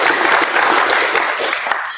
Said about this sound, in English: let's applaud the three of these individuals who have served